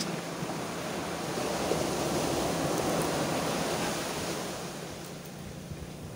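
Rough sea surf rolls in steadily at Coolwave, Ternate, a loud continuous wash of breaking waves with wind buffeting the microphone, nobody speaking.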